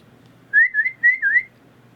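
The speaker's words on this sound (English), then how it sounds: "I need to get my cat to come with a whistle." A person whistles a short call to summon a cat: four clear, wavering notes in quick succession, close and loud in a quiet room.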